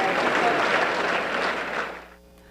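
A round of applause at a burial, a dense stretch of clapping from mourners that fades off near the end.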